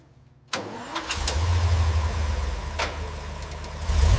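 1942 Willys MB jeep engine starting after silence: a sudden crank catches into a rough, knocking idle that grows louder and steadier, with a few clanks, close and alone.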